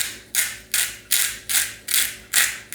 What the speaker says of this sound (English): Since I chose to use this grinder for Himalayan salt, it's just going to have to be what it is.